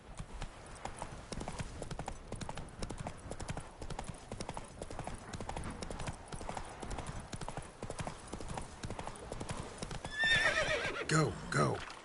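A horse gallops in The Witcher 3, with a quick, steady clip-clop of hooves running throughout and a neigh near the end.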